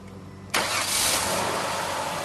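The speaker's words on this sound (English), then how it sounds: "we want to go ahead and start the car up" A car engine starting before an automatic transmission fluid check, a sudden loud crank-and-catch that settles straight into a steady idle, close and with no talking.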